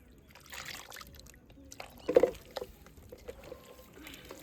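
Oil is poured into a large outdoor pot of village-style Hyderabadi chicken dum biryani, making a brief close trickling splash against quiet background noise.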